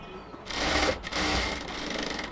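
A sewing machine stitches the elastic waistband strip onto a pair of baby shorts, running in a short close burst of steady whirring with a brief pause partway through.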